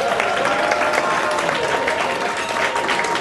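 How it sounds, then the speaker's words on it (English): Audience applause fills an awards ceremony hall in Buffalo, a dense, steady wash of many hands clapping at constant loudness throughout. "Let's give Mia a great big round of applause"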